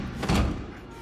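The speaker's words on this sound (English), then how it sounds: "Laura, open this door right now" Door in the video game Silent Hill 2 Remake slams shut with a single heavy, muffled thud that fades quickly into quiet room tone.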